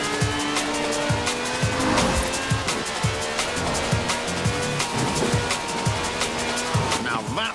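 A car drifting in the racing game Forza Horizon 4 roars with a loud high-revving engine while its tyres squeal in long sustained skids, plus rhythmic thumping over the engine, close and continuous.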